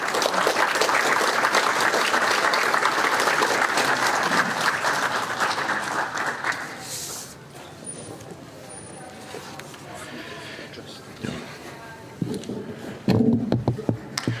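Audience applause welcoming lecturer Dr. Nicolás Ganson at a church lecture event, sustained loud clapping for about seven seconds that then fades to scattered claps, room noise and rustling.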